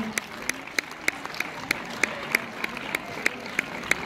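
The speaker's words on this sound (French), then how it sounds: "Allez, on peut applaudir monsieur" Audience at a film premiere screening in Orléans claps, with a few sharp, evenly spaced claps standing out above a softer bed of scattered applause and murmuring.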